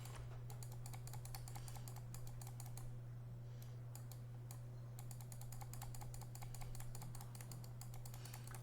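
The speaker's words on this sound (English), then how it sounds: "Lots of clicking." Rapid, steady clicking of a computer keyboard and mouse during digital character sculpting, close and continuous over a constant low electrical hum.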